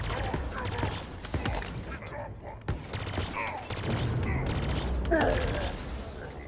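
Rapid gunfire and bursts of explosions rattle in the Halo Infinite video game, with sharp repeated shots and booms under a person talking at intervals.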